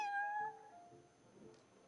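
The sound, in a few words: cat meowing in video game Genshin Impact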